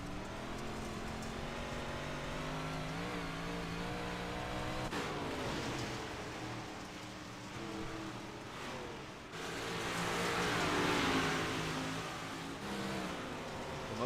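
Race cars circling a dirt track in the iRacing sim at Lernerville, closing on lapped traffic; engines drone loudly and continuously with rising and falling revs, cars passing close, no talk.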